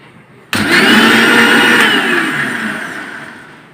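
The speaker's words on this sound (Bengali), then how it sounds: "এখন ব্লেন্ড করব" An electric kitchen blender switches on abruptly and runs loud and close in a steady, high whirring roar, then eases slightly lower in pitch and volume as the food breaks down.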